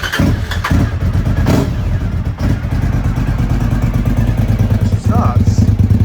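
A small two-stroke motorcycle engine, long unused, sputters into life and settles into a steady, loud running idle with uneven clatter, close by. A voice speaks briefly near the start.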